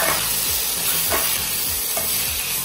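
Tuna sizzles loudly in a hot pan with aromatics, a steady broadband fry under repeated scraping stir strokes about every half second, close and continuous with no talking.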